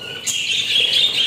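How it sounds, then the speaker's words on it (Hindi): Pet parrots kept in a colony enclosure squawk in a loud, continuous, shrill chorus of overlapping calls, close and dense, with no talking. "ये देखें हमारे जो तोते हैं"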